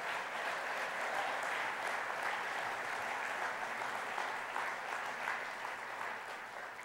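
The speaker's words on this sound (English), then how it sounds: "Let's give them a round of applause" A large gala audience gives sustained applause for the event's co-chairs, a steady dense roar of clapping from many hands that holds evenly throughout and tapers slightly at the end.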